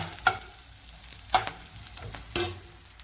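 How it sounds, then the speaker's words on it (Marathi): Quiet dry scraping and stirring of masala roasting in a pan under a soft sizzle, with three sharper strokes of a spatula spaced about a second apart. "मस्तपैकी मसाला भाजून घ्यायला लागले"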